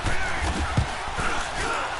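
Broad roar of a football stadium crowd in a PS4 football video game during a playoff atmosphere, steady and moderately loud with a brief swell near the middle, no clear voices.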